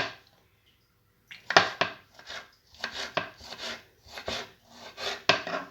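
A knife chops vegetables into very small pieces on a board for moussaka: a brief pause, then a run of close, firm, rhythmic chops with short gaps between strokes.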